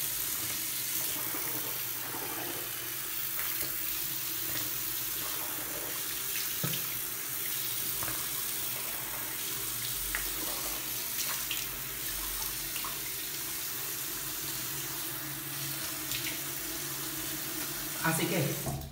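Steady broadband rush of water from a shower running continuously in a cold Bogotá morning bathroom, fairly loud and close, with a voice speaking faintly over it.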